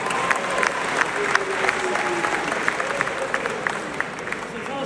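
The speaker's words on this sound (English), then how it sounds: "Give him a round of applause, guys." A crowd at a Khabib Nurmagomedov event claps steadily, with scattered sharper hand claps standing out and faint cheering and voices mixed into the sustained applause.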